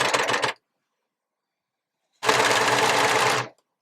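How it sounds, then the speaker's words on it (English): Overlocker serger stitching a T-shirt seam in two loud, steady bursts, a half-second run then a longer run of about 1.3 seconds, separated by silence. "What I'm doing here as well is just catching my overlocking stitch slightly over the tacking stitch that I've made"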